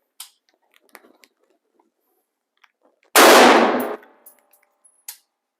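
A single loud, sharp report from a Ruger 5.56 NATO rifle fired through a chronograph at a range, decaying over about a second, surrounded by faint clicks and metallic handling sounds.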